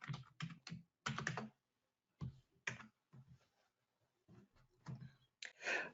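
A computer keyboard is typed on during a login, producing scattered clusters of soft, close key clicks separated by short silent gaps, with no speech.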